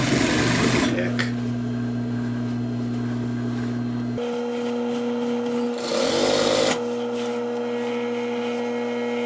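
A sewing machine runs a reinforced double stitch up the back of a Jamaican shop coat, humming steadily near the mic in two long bursts with a short pause between them.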